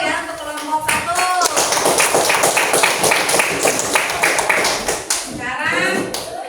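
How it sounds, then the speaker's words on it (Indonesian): A group in a classroom gets applause after presenting: a few seconds of brisk, moderately loud clapping from a small audience, with people speaking just before and after it. "Berikan aplaus dulu ya untuk kelompok 1."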